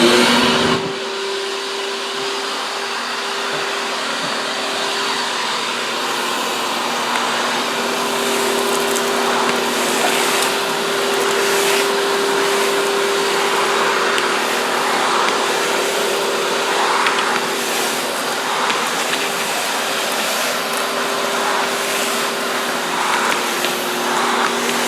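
A canister vacuum cleaner runs steadily on a floor, a loud, constant motor whine with a sustained tonal hum that holds for the whole stretch after it switches on, heard alone without talk.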